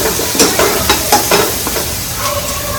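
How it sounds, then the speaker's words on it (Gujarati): Garlic paste sizzles and fries with onions in hot oil while being stirred, a steady loud crackle with repeated scraping stir strokes close by, no talk. "કાંદા મિક્સ થઈ જાય એટલે આપણે જે લસણની પેસ્ટ કરી હતી એ નાખી દેવાની છે."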